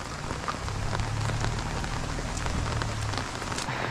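Rain patters steadily on a nearby surface in Mawlynnong village, Meghalaya, a soft, even shower of drops with no voices.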